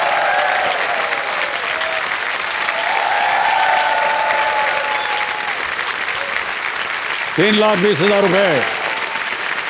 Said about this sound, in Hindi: तालियां बज जाएं जोरदार इनके लिए।